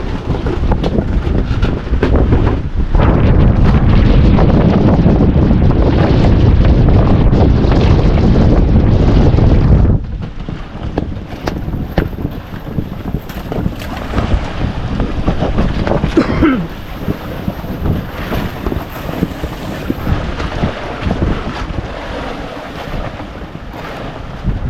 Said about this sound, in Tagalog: Oh, malaki ng alon.